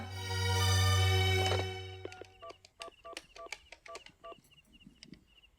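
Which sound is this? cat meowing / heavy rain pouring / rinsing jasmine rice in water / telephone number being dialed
telephone number being dialed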